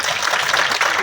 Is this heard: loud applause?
yes